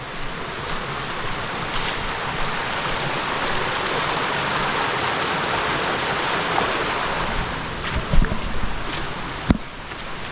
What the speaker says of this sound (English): I do hear water, so I'm guessing that there's going to be some kind of falls.